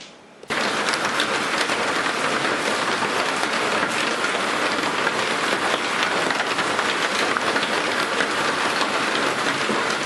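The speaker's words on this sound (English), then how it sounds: "Yep, that rain is sure coming down." Heavy rain pours down steadily, a dense, loud hiss that starts abruptly and continues without letup.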